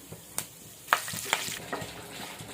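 Dried red chillies, crushed garlic, seasoning seeds, cumin and curry leaves fry in hot oil with a low, crackling sizzle and a few sharper pops, with no talking.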